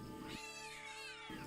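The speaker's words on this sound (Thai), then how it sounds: "เสียงแมวร้องออกมาด้วยความเจ็บปวด" A ghost cat lets out a long, pained yowl, a drawn-out wavering cry heard alone and up close, used as a sound effect in a spooky story.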